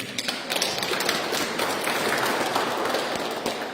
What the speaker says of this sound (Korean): 먼저 축하와 격려의 박수 부탁드리겠습니다